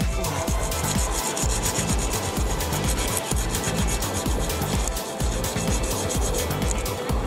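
Hand sanding with 120 grit sandpaper on a motorcycle transmission part repaired with JB Weld, a steady rasping scrub of quick back-and-forth strokes, close and continuous throughout.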